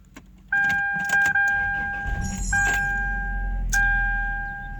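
A 1999 Toyota 4Runner with a four-cylinder engine cranks and catches. A steady idle follows, with warning chimes sounding repeatedly over the engine hum, close up and fairly loud.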